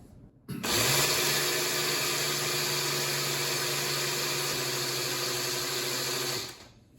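A blender whizzes sugar and kosher salt together in one continuous, steady high-pitched whir that starts abruptly, holds for about six seconds and winds down.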